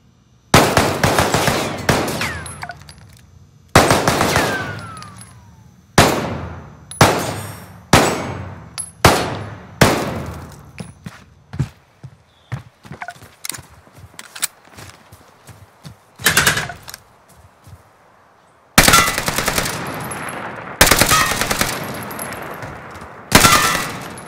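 Gunfire in the Call of Duty Warzone tutorial, loud automatic bursts in repeated clusters separated by short pauses, with quieter scattered shots and clatter in between.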